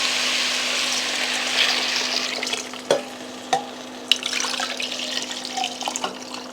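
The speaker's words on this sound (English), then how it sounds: "I'm just going to add half of my water" Water streams steadily into a cooking pot holding onions, garlic and peppers for fish tea, a continuous rushing pour with a few sharp knocks and clinks of stirring near the end.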